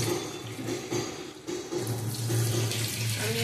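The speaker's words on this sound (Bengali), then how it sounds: "এবারে যার যেরকম গ্রেভি দরকার সেই অনুপাতে জল দেবে, আমি অল্প দেব না, আমি আরেকটুখানি দেব" Water poured into a simmering curry gravy for a Bengali aubergine and hilsa dish, a steady close splashing and trickling stream running throughout with no speech.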